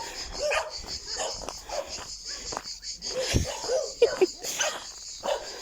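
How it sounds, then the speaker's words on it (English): Dogs nearby making small yips, whines and panting sounds, intermittent and fairly soft, over faint outdoor background noise on an August walk in Tuscany. "There's the dogs."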